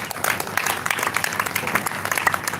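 Sustained audience clapping fills a hall after a faculty lecture, a dense, even patter of many hands close and loud with scattered sharper claps throughout.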